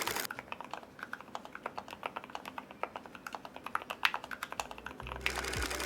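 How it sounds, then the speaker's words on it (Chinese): Mistel MD770 PRO split keyboard fitted with HMX switches, typed on steadily at close range; the keystrokes land as a dense, fairly quiet run of muted, deep clacks with no talking. "那我們就現在聽聽看它的打字音表現吧"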